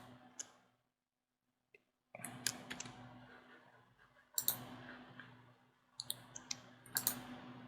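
Sparse computer mouse clicks and light desk ticks during Photoshop editing, quiet and close, arriving in small clusters separated by brief silences.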